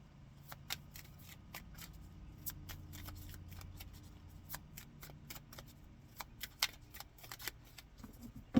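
Tarot cards are shuffled by hand, giving rapid, close, crisp riffling and snapping card sounds in uneven bursts over a faint low background, with no talking.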